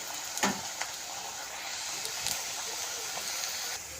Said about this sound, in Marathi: आता सर्व आपण यामध्ये सोडून घेऊया व्यवस्थित फ्राय करून घेऊया